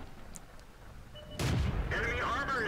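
Tank cannon shot in a tank video game, one sudden booming blast that cuts through quiet background and leaves a rumbling tail, with faint talk underneath.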